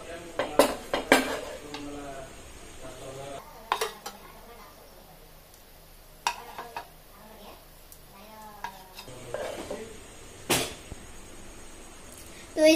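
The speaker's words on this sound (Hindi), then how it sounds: "अभी मैं इसको प्लेट में डालूंगी।" Food is served onto a plate in a home kitchen, with scattered sharp clinks and clatters of utensils against dishware spread out between quieter gaps, and faint voices in the background.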